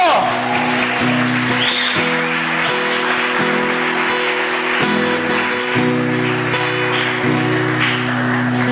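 A church congregation claps during a worship service, a busy spread of hands beneath sustained keyboard chords and other worship sounds, fairly loud and continuous for several seconds.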